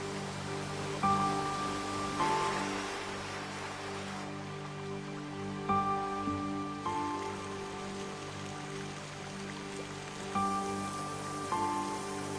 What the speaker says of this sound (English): Rain brings a plentiful supply of fresh water